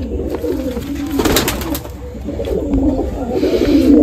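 Gola Madrasi pigeons cooing in a loft, a steady low rolling coo repeating throughout over a busy background of other birds, fairly close and moderately loud.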